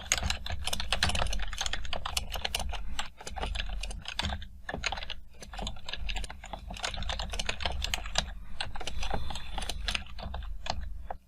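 Someone types C++ code on a computer keyboard: rapid, close clicking keystrokes run steadily throughout, with short pauses and occasional heavier key presses, and no talking.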